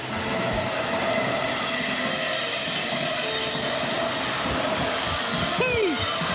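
A train rolls along on a public transport ride, with a steady loud rumble and rattle of the carriages, a brief wheel squeal near the end, and faint voices underneath.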